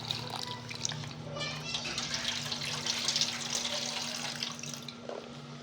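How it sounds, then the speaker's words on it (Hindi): A kitchen tap runs steadily while onions are washed under it, a soft continuous hiss and splash at moderate distance, as someone talks and children's voices drift in faintly in the background. "अब हम प्याज़ों को धो लेते हैं"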